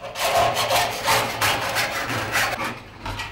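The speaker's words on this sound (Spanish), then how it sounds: "El platero recorta el dibujo de la chapa y cala los huecos con la segueta" A silversmith's fretsaw cuts the design and its holes out of metal plate, a loud, close, rhythmic rasping of repeated strokes with no voices.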